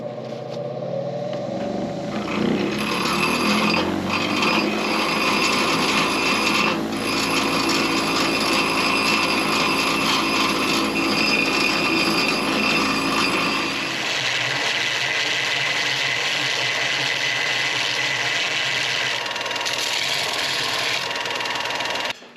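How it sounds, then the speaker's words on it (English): A bench grinder chamfers the ends of steel pins, a loud, continuous whirring grind that shifts in tone as each pin is pressed against the wheel and then eases toward a lighter, higher whine. "take all of the pins over to the grinder and put a little chamfer on the other end opposite the grease pin"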